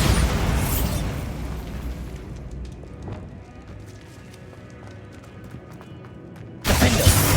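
A Bombarda spell explosion in Hogwarts Legacy bursts loud and broadband at the start, fades into a quieter rumbling tail with scattered crackles, then a second heavy blast erupts near the end.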